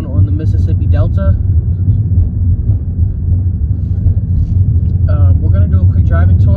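A car drives through a small Mississippi Delta town, its low engine rumble and road noise steady throughout while someone talks over it.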